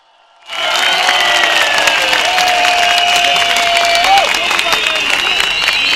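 A large crowd at a CHP political rally in Pendik bursts into loud, sustained applause and cheering after a brief quiet moment, the dense clapping holding steady throughout.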